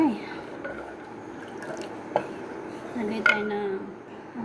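Creamy sauce for baked macaroni being stirred in a pan, with soft scraping and a few sharp metallic clinks of utensil on pan, accompanied by faint sizzle and a voice speaking in the background.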